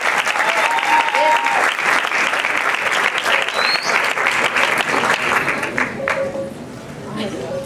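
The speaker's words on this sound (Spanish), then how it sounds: "Fuerte el aplauso para Belén Martínez Romero y David Gambetta." Audience applause at a salsa dance competition semifinal in Argentina, a dense sustained wash of clapping from a large crowd that carries steadily throughout, easing slightly toward the end.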